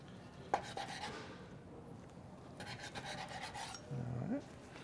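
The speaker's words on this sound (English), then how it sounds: "I'm going to make a couple of slices, probably about 1/4 inch thick." A knife rasps through chicken on a cutting board, cutting into slices about a quarter inch thick with several short scraping strokes and a light tap, close and quiet, with no talking.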